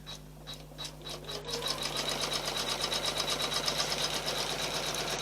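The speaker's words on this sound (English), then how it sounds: "it's now going to start, hopefully, fingers crossed, the tack down stitches for this" An embroidery sewing machine stitches tack-down stitches on a mug rug, starting with a few slow needle strokes, then running into a fast, even mechanical whir with a regular rhythmic pulse, close and moderately loud.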